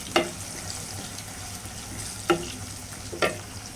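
Chopped onions hit hot oil in a pan where small sea fish are being cooked in hill style, giving a steady, close sizzle with three sharp bursts as pieces drop in and get stirred.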